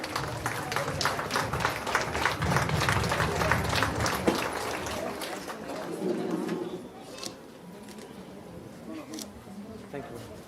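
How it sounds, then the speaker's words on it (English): A crowd at a convent school's annual sports meet gives a round of applause, steady dense clapping from many hands that fades out toward the end while a voice talks over it. "Let's join our hands for a big round of applause."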